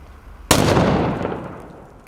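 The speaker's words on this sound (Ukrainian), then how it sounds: "аби знешкодити підозрілий пакунок, вибухотехніки приводять у дію спеціальний пристрій" A bomb disposal device fires to destroy a suspicious package, a single sharp, loud blast after a quiet lead-in, followed by a rumbling decay.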